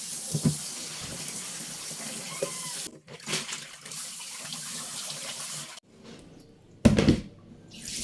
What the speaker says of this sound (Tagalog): ang gagawin ko ay maghuhugas ng hipon, yung binili kong 2 kilo